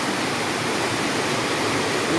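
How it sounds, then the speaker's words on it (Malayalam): Steady heavy rain pouring down outdoors, a dense continuous hiss of falling water with no pauses, loud and close throughout. "നല്ല മഴ."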